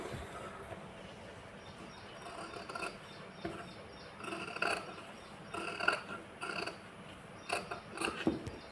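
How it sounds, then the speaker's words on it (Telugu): Scissors snipping through blouse cloth while trimming a cutwork neck design, a series of soft, close crisp snips and rustles against a quiet background hum, with no talking. "ఇప్పుడు ఈ లోపల క్లాత్ అంతా కటింగ్ అనేది చేసుకోవాలి"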